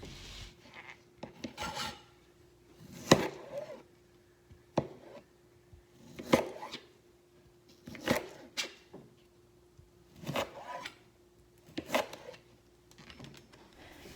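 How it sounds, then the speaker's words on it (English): A knife chopping tomatoes into chunks on a cutting board for homemade salsa gives sparse, quiet thuds and scraping strokes every second or two, close by, with near-silence between cuts. "After you finish chopping up all the tomatoes, add them into the blender before moving on."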